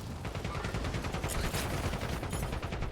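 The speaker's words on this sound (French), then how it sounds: "Je suis descendu à côté de quelqu'un qui tire." Continuous rapid gunfire in a battle royale video game, dense bursts of shots packed together loudly and without a break across the whole stretch, with no talk over it.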